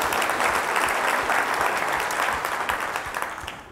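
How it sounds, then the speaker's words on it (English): Audience applause at a tech conference welcoming a speaker, a brief burst of close, dense clapping from a crowd that tapers off toward the end. "Big round of applause for Aiden Ziegelaar."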